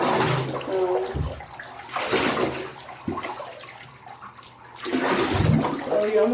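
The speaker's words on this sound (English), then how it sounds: "Get him wet. From head to toe." Water running into a bathtub while a dog is bathed, gushing and splashing in uneven bursts that swell and dip, close by with no talk over it.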